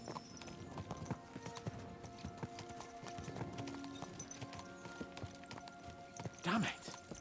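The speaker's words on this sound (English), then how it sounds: "Let's really spur these horses on, eh?" Horse hooves clip-clop steadily in Kingdom Come: Deliverance 2, a medieval role-playing game, as a rider spurs the horses on, with a louder burst of movement near the end.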